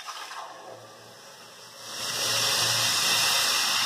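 A loud, steady sizzling hiss rises sharply as tamarind water hits a hot pan of tempered spices, continuing at full strength.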